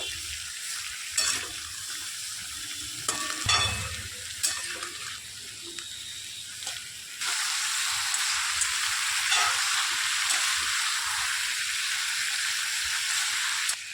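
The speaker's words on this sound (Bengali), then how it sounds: "এবার নাড়াচাড়া করে নেব একটু।" Cauliflower stalks with salt and turmeric are stirred in a pan, with scraping and clattering stirs at first, then a steady loud sizzle that runs on close by.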